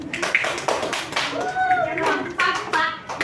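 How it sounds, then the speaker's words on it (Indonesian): A classroom group claps for a student group in a mathematics lesson, sparse uneven claps and taps mixed with children's chatter and voices, close and irregular over about three seconds. "Berikan aplaus untuk kelompok 1."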